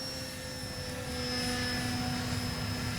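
An E-flite Timber electric RC airplane performs aerobatics overhead, giving a steady, high-pitched buzzing motor whine with a sustained tone, moderately distant and consistent across the pass.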